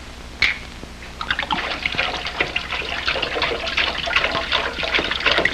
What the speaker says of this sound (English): Pour it in the sink.